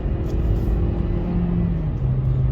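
A Hyundai Elantra engine revs hard inside the car, giving a loud, steady low rumble and drone whose pitch holds and then drops slightly near the end, with no talking.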